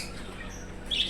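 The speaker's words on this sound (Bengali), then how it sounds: "প্রচুর পরিমাণে লাভ বার্ড আছে দাদার কাছে" A flock of lovebirds kept for sale gives a short, sharp, high squawk near the end, rising briefly above a steady low background hum.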